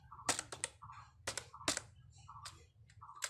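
Typing on a computer keyboard while writing HTML and CSS: quick bursts of close, crisp key clicks with short pauses between them, and a few firmer single presses like the Enter key, with no talking.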